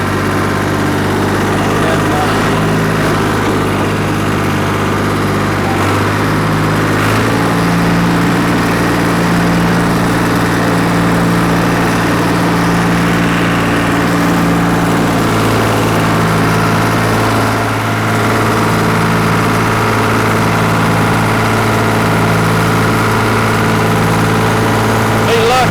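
A garden tiller engine runs steadily and loudly while churning a wood chip garden, its droning hum holding a constant pitch with a slight shift partway through, close to the microphone and continuous throughout.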